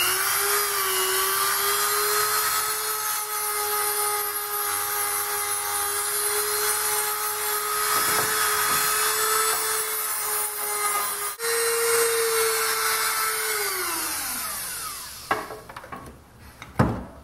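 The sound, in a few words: Dremel-type rotary tool grinding off markings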